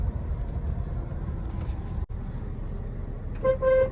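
A car horn gives a short double toot near the end, loud and close over a low rumbling road and engine drone from a car on the move.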